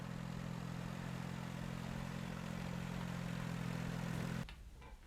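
A farm tractor engine drones steadily at a low, even pitch for several seconds, then abruptly cuts off near the end, leaving quieter rumbling.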